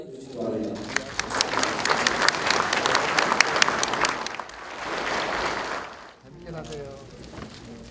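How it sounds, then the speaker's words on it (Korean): An audience at a Korean Buddhist charity event bursts into sustained clapping for several seconds, fading out, with an announcer's voice speaking before and after the applause. "큰 박수 부탁드리겠습니다."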